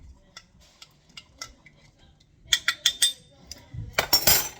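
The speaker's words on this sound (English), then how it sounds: "Stir it." Sourdough ingredients, including a tablespoon of plain salt, stirred in a bowl: a series of close, sharp clinks and scrapes of a utensil against the bowl, sparse at first, then faster and louder near the end.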